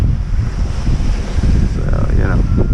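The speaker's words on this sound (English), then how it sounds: "there's now two distinct set of waves" Waves break and surge around a small sailing boat at sea, with heavy continuous wind buffeting and rushing water, loud and close, and a brief voice in the background.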